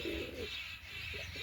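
Pigeons coo softly nearby in a short rolling call, then a brief second coo, faint against steady background noise.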